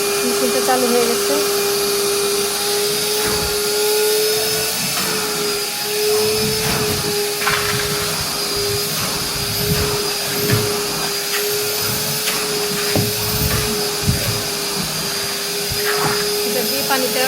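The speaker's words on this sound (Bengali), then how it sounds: "এটা দিয়ে পানিটা টেনে উঠে ফেলছে, এই মেশিনে জমা হচ্ছে, পাইপের মাধ্যমে এই মেশিনে যাচ্ছে।" A wet vacuum cleaning machine sucks water out of cushion foam with a loud, steady whine and roar that holds for the whole stretch, with a faint voice at times beneath it.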